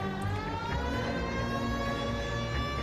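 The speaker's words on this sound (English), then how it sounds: "Okay, got my siren on." A police siren wails steadily and continuously from a driven car, loud and close, with no talk over it.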